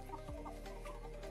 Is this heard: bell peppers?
no